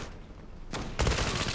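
Rapid automatic P90 gunfire in the online shooter Zula starts after a short shot and bursts into a dense continuous volley, loud and close, with no voices.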